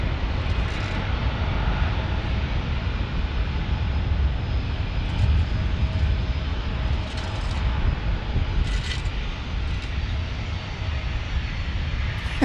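An old Boeing 737 jet airliner flies past, a steady broad engine roar that holds loud and constant throughout, heard from a plane-spotting spot in San Diego with no talking.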